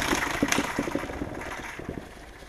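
A KTM 300 dirt bike engine full of water sputters and coughs with uneven, popping bursts, pushing water out the exhaust, gradually fading over a couple of seconds.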